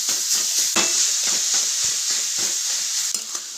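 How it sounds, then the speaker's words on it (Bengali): Grated coconut and jaggery powder are stirred in a hot pan, making quick repeated scraping strokes close up over a soft sizzling hiss. "এটা ভালো করে মিক্স করে নেব নারকেলের সাথে গুঁড়োটা"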